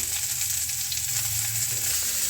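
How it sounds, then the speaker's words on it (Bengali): Cauliflower and potato pieces frying in oil left from frying fish, a steady close hiss and crackle with soft stirring scrapes, continuous and even throughout. "এবার আমি ওই ফুলকপির মধ্যে আলুগুলো দিয়ে ভেজে নেব"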